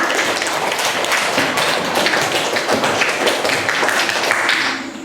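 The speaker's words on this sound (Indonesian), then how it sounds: "Boleh tepuk tangan untuk Anissa." Classroom of university students claps for a student after a group presentation on fungi, a close, busy patter of hands that fades out at the end.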